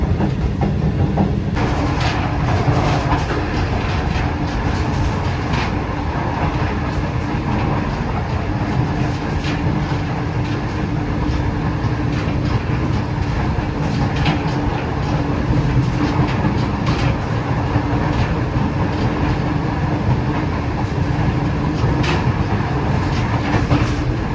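The 28 Down Shalimar Express runs at speed on the line toward Multan, a loud continuous rumble with rhythmic wheel clatter and rattling carriages throughout.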